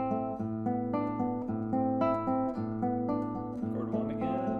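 Clean guitar picking a slow repeating arpeggio of chord tones, bass notes walking underneath, steady and close with no voice.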